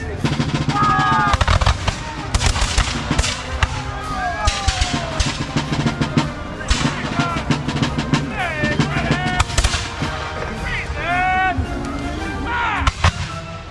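Musket volleys by Crown forces reenactors firing by division at a Vincennes, Indiana rendezvous, with repeated loud cracking bursts rolling across the field, spaced by pauses for reloading, while a commentator speaks and crowd noise continues beneath.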